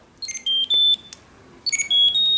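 A Nokia Treasure Tag plays its locator tone: two bursts of bright, high electronic beeps with a quick chirp pattern followed by longer sustained tones, clear and close with quiet gaps between.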